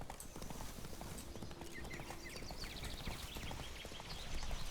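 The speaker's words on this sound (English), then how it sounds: "Hello, my fellow armored horse." Armored horse hooves clip-clop at a steady walking pace in The Witcher 3: Blood and Wine, soft and fairly quiet, with faint chirpy sounds in the background.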